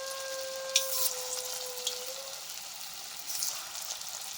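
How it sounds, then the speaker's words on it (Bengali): Mutton koftas dropped one by one into hot mustard oil in a wok, a soft, steady sizzle with a few brief splashes and clinks, quiet and close, with no voices. "এবার এক এক করে কোপ্তাগুলোকে তেলের মধ্যে ছেড়ে দেব।"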